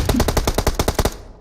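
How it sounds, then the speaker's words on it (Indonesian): Automatic gunfire in the video game PUBG Mobile: a loud, close burst of about a dozen rapid, evenly spaced shots that cuts off sharply. "Suara tembakan di bawah telinga dia lo."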